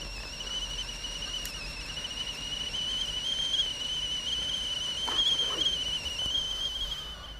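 Whistle blown outdoors at a camp, a thin high steady tone held for several seconds over quiet outdoor background noise.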